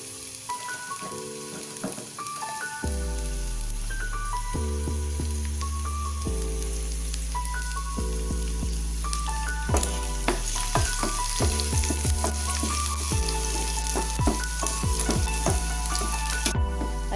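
Garlic fries in hot cooking oil, a steady crackling sizzle heard close with repeated stirring scrapes, while background music plays along throughout and no one speaks.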